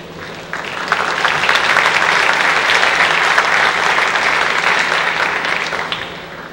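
An audience at a high school awards ceremony applauds scholarship recipients, dense loud sustained clapping from many hands lasting several seconds before tapering off.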